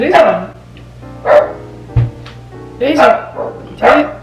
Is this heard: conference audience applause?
no